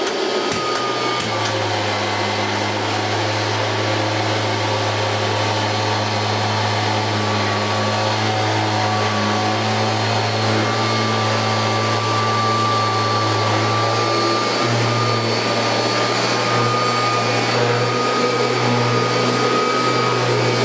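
Kirby Legend 2 vacuum shampooing carpet in one slow straight pass, a loud steady motor drone with a high whine that holds for the whole stretch, its note shifting slightly near the end, with no talking.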